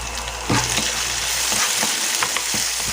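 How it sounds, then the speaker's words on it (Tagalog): Garlic, onion and tomato sauté in a hot pan for a vegetable stir-fry, giving a loud, constant close sizzle broken by a few scraping stirs. "Gisa natin yung bawang, sibuyas, kamatis."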